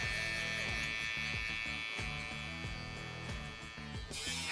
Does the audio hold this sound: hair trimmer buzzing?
yes